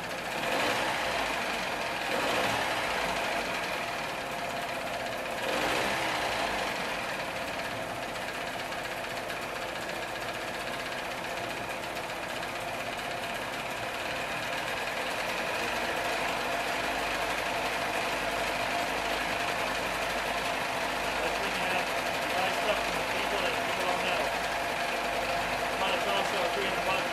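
A 1979 Evinrude 35hp outboard motor runs with a steady, loud, droning hum that holds an even level throughout, with no pauses or changes in pace.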